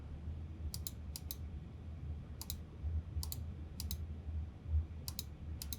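Quiet clusters of computer keyboard and mouse clicks come in short bursts of two or three at a time over a low steady room hum, with no voices.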